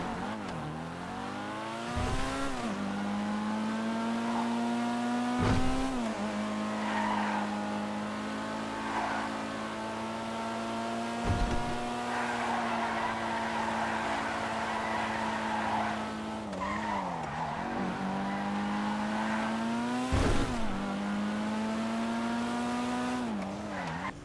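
A car on a video game test ride, its engine droning steadily with rising revs and gear-change dips, broken by several sharp tire squeals and skids, loud and close with no talking.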